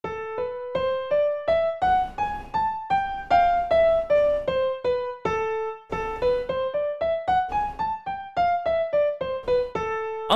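A melodic minor scale ascending and then descending as natural minor, played note by note in an even, moderate rhythm with clear sustained tones and no talk.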